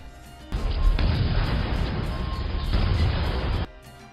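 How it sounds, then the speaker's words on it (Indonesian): A loud, sustained burst of explosive blasts and crashing rumble from detonated traps in a film erupts after a brief pause, continuing for about three seconds before cutting off abruptly. "dia pun seketika meledakkan semua jebakan yang dia buat"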